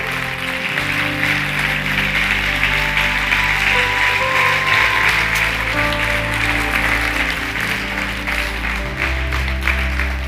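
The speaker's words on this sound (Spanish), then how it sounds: "Póngase de pie y dele un aplauso a Jesús." A church congregation rises and applauds during a Spanish-language Sunday service, a steady, loud wash of clapping lasting the whole stretch, with sustained music tones underneath.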